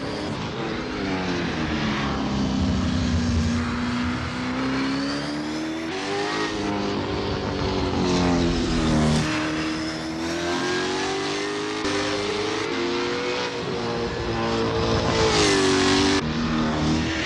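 A V8 Supercar Ford Mustang S550 in Assetto Corsa on Albert Park Circuit, a loud, continuous engine roar rising and falling through gear changes, with no talk.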